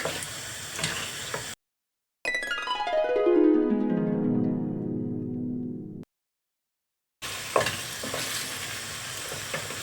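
Orzo pasta soup with chicken stirred in a pot, a close, continuous scraping and sizzling with brief silent gaps, then stirring again.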